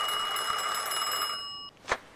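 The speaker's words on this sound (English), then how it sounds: "we got a phone to answer" Telephone ringing in Mafia 2, an Xbox 360 game: a steady electronic bell trill rings continuously for about a second and a half, then cuts off, followed by a single short click or thump.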